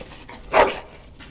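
One sharp dog bark, with a slight whimpering tail, rings out from the video game Dragon Age Origins over a quiet ambient backdrop.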